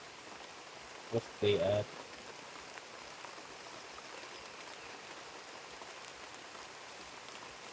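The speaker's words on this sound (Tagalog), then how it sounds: "so yung pagtatanim natin mga kaparmers ay medyo ulan" Light rain falls steadily outdoors while grafted EVIARC jackfruit seedlings are being planted. The patter is soft and continuous, and a few brief spoken words break in near the start.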